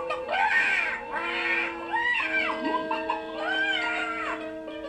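A cartoon magic hen gives loud, wavering squawks repeated in several bursts, a strained cartoonish cackle with a high, warbling, almost screaming tone.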